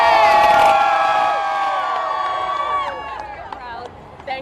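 A crowd at a Pride parade in downtown Houston cheers loudly with shrill whoops and high voices, the roar strongest at first and then thinning out over several seconds.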